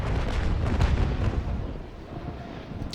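Ship cannon fire in a naval port-battle video game, heard as a continuous deep, booming rumble of heavy shots that swells and then slowly eases off.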